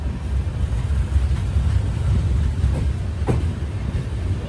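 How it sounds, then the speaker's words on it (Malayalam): Inside an S2 coach of the Thiruvananthapuram–Mangaluru Express pulling out of Nileshwaram station, a steady, loud rolling rumble fills the air, with a few faint clicks of the wheels over rail joints. "അങ്ങനെ നീലേശ്വരത്ത് ഇതാ നമ്മുടെ ട്രെയിൻ എടുത്തു"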